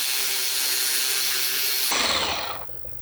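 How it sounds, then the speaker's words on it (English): Wheel polisher spinning at low speed on an old damaged wheel, a steady motor whine that turns into a broader, rougher buffing sound as the pad meets the surface, then fades, close and fairly loud. "I'm gonna break my polisher all the way down to a 1 just to get this stuff worked in"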